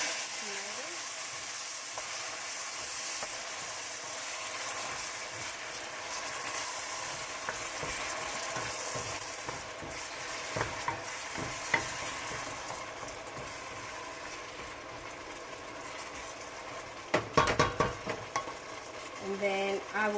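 Chopped tomatoes hit a hot pan for a bean stew and are stirred, giving a continuous soft sizzle and frying hiss with scraping spoon strokes and a few sharper clatters later on.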